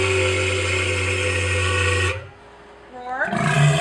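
A trained walrus vocalizes on command, a long sustained tonal roar with a strong steady pitch, then a pause and rising whistly, sputtering calls, close and loud.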